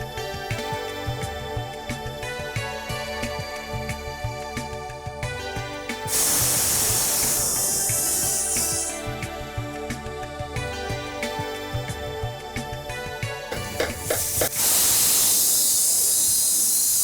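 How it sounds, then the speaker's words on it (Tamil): A pressure cooker lets out loud bursts of steam hiss in a kitchen, broad roaring blasts that rise and cut off, interleaved with intervals of layered tonal sound, no talk heard. "ஆவி வருதா? இப்போ விசில் எடுங்க."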